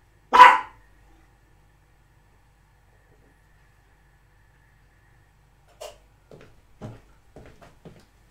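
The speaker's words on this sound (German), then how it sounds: "weil der Hund ist nur am Kläffen" One sharp, loud dog bark rings out close by, followed by a long stretch of silence and then a cluster of softer, shorter yaps and sounds near the end.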